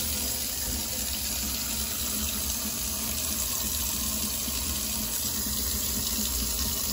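Hot water pours continuously onto a big chunk of ice, a loud, steady close rushing splash with no breaks.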